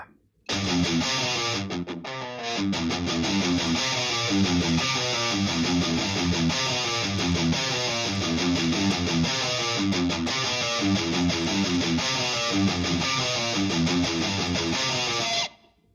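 A heavily distorted electric guitar chugs out a dense, rhythmic riff, loud and saturated, playing continuously for about fifteen seconds.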